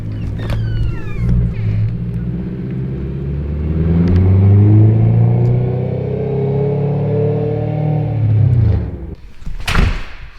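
A piped BMW E92 M3 rumbles loudly up close, its V8 revving and droning as it pulls away, the note rising and then fading, followed by a brief thud near the end.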